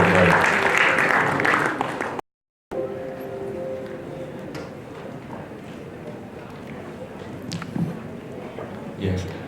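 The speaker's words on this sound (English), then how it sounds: "please give our principal and BMS coordinator a huge round of applause" At a college E-Summit event, an audience applauds the principal and BMS coordinator with a burst of clapping that is cut off abruptly, followed by scattered lighter claps and faint crowd noise.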